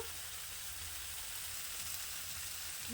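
Ground spices and turmeric frying in oil in a pan, a loud, steady, close sizzle that fills the whole stretch with no talking.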